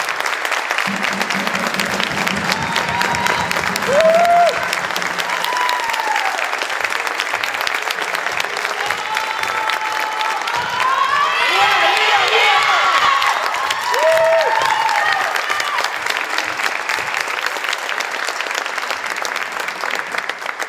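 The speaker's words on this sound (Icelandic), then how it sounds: "Gefum ÍR-inu gott klapp." Sustained applause from a crowd with scattered cheers and whoops, steady and fairly loud across the whole stretch.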